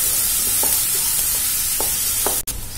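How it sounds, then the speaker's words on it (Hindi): Onions fry in a pan with green chili and cumin, giving a continuous close sizzle with a few soft stirring clinks and a brief sharp knock near the end. No talk is heard. "इसको अच्छे से भूनेंगे प्याज को।"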